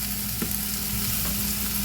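Food frying in a pan, likely the onions for a canned-salmon dish, gives a steady close sizzle with a couple of faint scraping stir strokes and no talk.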